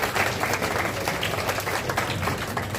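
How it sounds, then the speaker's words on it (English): Audience applause at a local community gathering honoring a guest, a steady, dense wash of many hands clapping in a room, sustained at moderate level throughout without talk. "And Lloyd is very special and deserving of applause."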